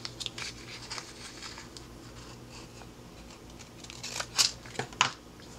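Scissors cut by hand through a paper tag pad, giving close, soft snips and paper rustle that grow sharper toward the end, with no voices.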